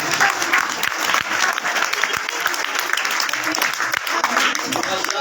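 A school audience claps steadily for a prize-winning pupil at an academy's annual results and prize ceremony. The dense, continuous applause lasts throughout, with some voices mixed in.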